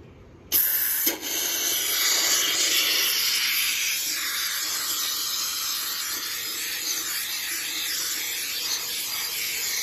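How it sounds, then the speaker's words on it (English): A loud, steady pressurized hiss of spray foam being applied into a gap around a window air conditioning unit starts suddenly and keeps spraying without a break, fading only slightly toward the end. "you can see the spray foam is expanding right here"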